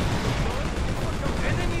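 Dense, continuous battle gunfire from C&C Generals Zero Hour with the Prepare for Battle mod and Russian special forces, a loud, unbroken roar of overlapping shots and blasts.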